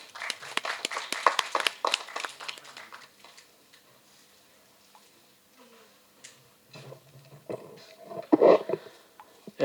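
Applause greets a lyricist at a Tamil movie press meet, a brisk burst of clapping that thins out after a few seconds into near quiet, followed by scattered small sounds and a short louder stir at the end.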